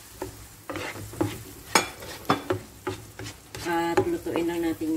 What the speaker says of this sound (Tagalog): At lutuin lang natin yung siling labuyo guys.